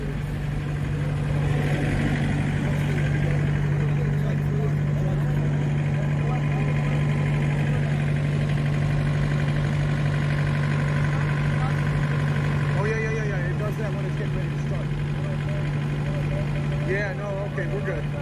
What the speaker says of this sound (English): Doesn't sound like it's got an engine issue.